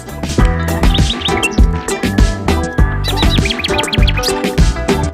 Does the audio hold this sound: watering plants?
no